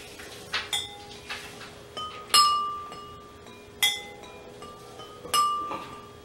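Gentle clinks of glass being tapped in a slow, soft rhythm, each ring fading quietly before the next light strike.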